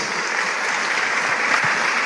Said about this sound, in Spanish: Denle un fuerte aplauso al Rey de Reyes.